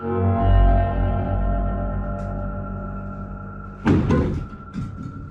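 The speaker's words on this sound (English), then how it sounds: "the wardrobe door opens and closes repeatedly" A wardrobe door creaks with a long, resonant groan, then shuts with a sudden thump, followed by a softer knock. The setting is quiet and echoing, with no talking.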